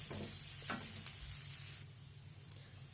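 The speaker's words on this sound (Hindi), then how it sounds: "ये देखिए दाल बहुत अच्छी तरीके से भुन रही है, ड्राई होना शुरू हो गई है।" Chana dal roasting dry in a pan gives a steady sizzle with scraping stirs, loud at first and then easing to a softer crackle with one brief clink.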